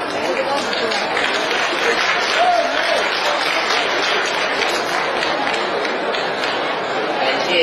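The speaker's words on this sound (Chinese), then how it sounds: "感谢大家的掌声鼓励。" Audience applause at a Chinese crosstalk (xiangsheng) comedy show on Christmas evening: dense, steady clapping fills the whole stretch at an even level, with some crowd voices mixed in.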